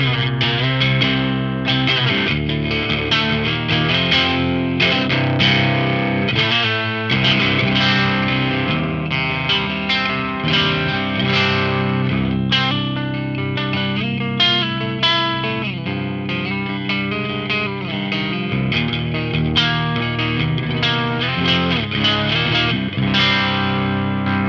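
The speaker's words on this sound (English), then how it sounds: "if you go over to the split coil function, you'll just hear how much more top end clarity and punch this pickup has" An LTD budget electric guitar fitted with a modded pickup, switched to split coil mode, plays a continuous, loud distorted riff with chorus and effects coloring, steady and sustained with no pauses.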